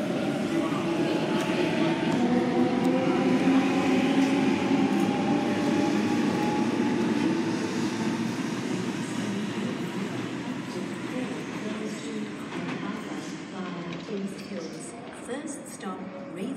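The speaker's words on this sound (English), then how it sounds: "the next train on platform number 4 goes to MacArthur" A train rumbles at a railway station platform in Sydenham, a broad steady roar with rising tonal whine as it moves, gradually fading toward the end while a voice talks over it.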